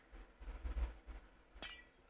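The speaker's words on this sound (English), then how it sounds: "Ah! I forgot that made a glass sound." A glass-breaking effect in a video game: a few faint clinks and rumbles, then a sharp bright shatter near the end, quiet overall with no talking.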